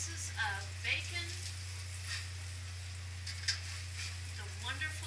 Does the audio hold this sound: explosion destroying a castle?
no